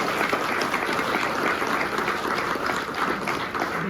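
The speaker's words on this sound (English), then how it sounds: "They all deserve a round of applause." An audience at an award ceremony applauds a columnist's family, dense sustained clapping from a room full of people with no voices over it.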